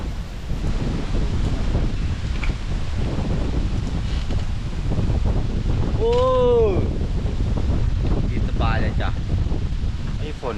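Strong, cold wind blows steadily around a high treehouse shelter in a storm, a loud continuous roar buffeting the microphone, with brief whistling bird-like calls in the middle and near the end.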